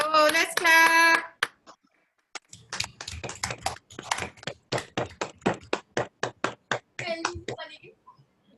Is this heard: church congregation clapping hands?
yes